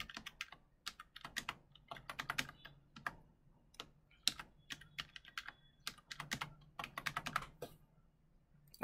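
Rapid clacking keystrokes on a computer keyboard as a password is entered during a Red Hat Linux installation, irregular bursts of close, moderately quiet taps with short pauses, no talking.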